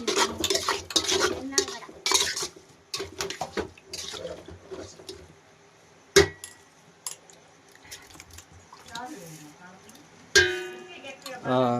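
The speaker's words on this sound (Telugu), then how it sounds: "అందుకే కొంచెం అల్లం వెల్లుల్లి కూడా వేసి బాగా మిక్స్ చేసేద్దాం" Chicken stirred with ginger-garlic paste in a pot for a chicken curry: irregular spoon clanks and scrapes against metal, a couple of sharp knocks, mixed with someone talking.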